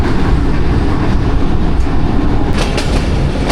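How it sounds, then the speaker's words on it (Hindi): An oil train running from Chak Pirana to Mehmood Kot passes close by on the railway, a loud, continuous rumbling roar with wheel clatter and a few sharper clanks near the end. "चक पिराना से महमूद कोट के लिए ऑयल ट्रेन निकलती है जी"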